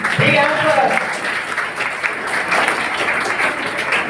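Sustained applause fills an award ceremony hall, a dense even patter of many hands clapping that continues steadily for several seconds, with a voice briefly heard at the start.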